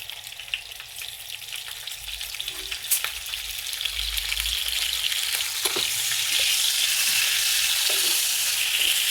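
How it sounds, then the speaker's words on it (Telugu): Snails frying in hot oil in a pan over a medium-low flame, a continuous close sizzle that grows slightly louder, with occasional stirring clinks and pops and no talking. "లో ఫ్లేమ్లో పెట్టుకుంటూ ఈ నత్తల్ని ఫ్రై చేసుకోవాలి"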